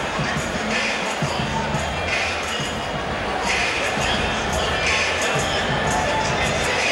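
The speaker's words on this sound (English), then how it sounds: "So here at Freedom Hall in Louisville, Kentucky, huge crowd on hand to see our main event." A huge boxing crowd fills Freedom Hall in Louisville, Kentucky, before a Mike Tyson main event, a loud continuous roar of chatter and cheering with an announcer's voice over it.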